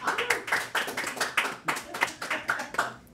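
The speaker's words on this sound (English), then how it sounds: "give a round of applause for Stu," Hands clap in a quick, steady rhythm as an audience applauds at a RuneScape game jam showcase, close and moderately loud, with no talking.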